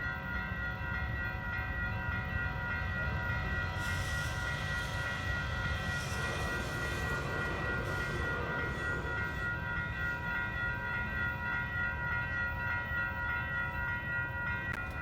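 An Amtrak passenger train passes at a railfanning spot, a steady rumbling roll with wheel noise and a sustained tonal horn-like whine, moderately distant and continuous throughout.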